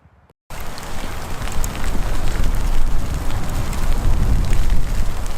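Heavy rain pours outdoors on a hillside under a sudden storm, a dense, steady hiss that starts abruptly after a brief quiet moment and stays loud and close throughout, with no voices.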